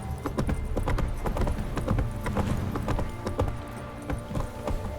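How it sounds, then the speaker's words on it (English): The horse Roach trots in The Witcher 3, with steady close clip-clop hoofbeats in a quick repeating rhythm that carries through the whole stretch. "Whoa there, Roach."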